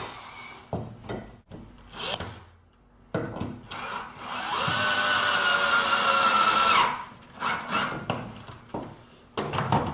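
A power drill drives deck screws fitted with 1/4-inch washers into softwood while a wheelbarrow planter is assembled. It gives one sustained whirring run that climbs in pitch for a few seconds, with scattered knocks and handling taps before and after.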